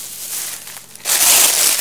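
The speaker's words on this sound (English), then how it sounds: "Sorry for the crinkle." Clear plastic bags from a discount store haul, holding loveys, crinkle loudly and close for about a second after a quieter rustling start.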